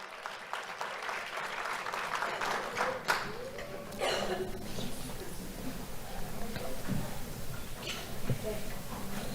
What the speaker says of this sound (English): Let's have a round of applause for Stephen Rogers.